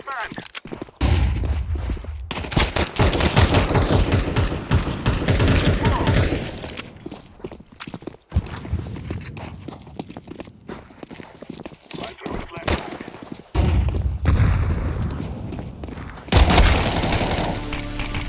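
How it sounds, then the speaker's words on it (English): Flashbang grenade thrown and bursting amid rapid gunfire in an online shooter game, loud bangs and volleys of shots filling most of the stretch, with brief gaps and a sharp burst near the end. "I'm throwing the flashbang."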